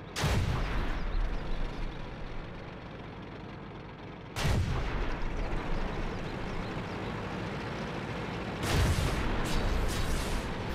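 Tank cannon fire in World of Tanks, three loud booming shots spaced a few seconds apart, each a sharp blast trailing into rumbling battle noise, with no voices.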